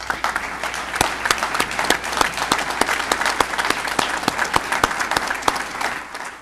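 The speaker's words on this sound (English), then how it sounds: "I'd like to give this group a big round of applause." An audience at a Saginaw police department awards ceremony claps steadily for several seconds, a dense, even patter of many hands in an indoor room with no voices over it.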